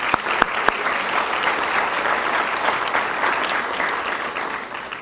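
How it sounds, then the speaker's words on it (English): Audience applause at a high school varsity jacket night, a sustained round of clapping from a crowd with a few sharp nearby claps standing out at the start. "So I want to just give another round of applause to Erin"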